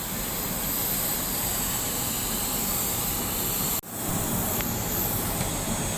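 A Garuda Indonesia airliner's jet engines roar steadily at a hajj boarding, a loud continuous broadband rush that cuts out briefly near the end and then resumes, with no talk.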